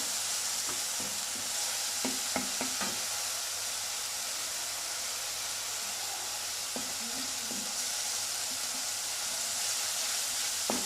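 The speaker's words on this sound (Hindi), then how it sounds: "प्याज को हमने थोड़ी देर भून लिया है।" Onions sizzle and fry steadily in a pan for a chicken kofta curry, with a constant hiss and a few soft clinks of stirring throughout.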